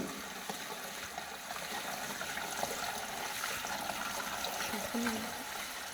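Water pours steadily into a beer tap cooling machine, around twenty litres filling a tank over copper and stainless steel coils, as a faint, continuous trickle beneath low background noise.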